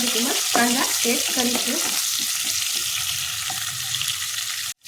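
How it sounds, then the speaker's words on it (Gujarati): Green chillies frying in hot oil for a fresh corn chevdo, a loud, crackling sizzle that pops in bursts at first and then settles into a steadier hiss, cutting off abruptly at the very end. "આવી રીતે આપણા મરચાં થોડી વાર ફ્રાય થાય"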